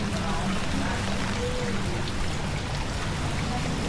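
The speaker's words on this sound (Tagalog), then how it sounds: "Yan na, lumalakas na yung ulan din." Steady rain hisses and patters continuously, a dense wash of drops close by with no pauses.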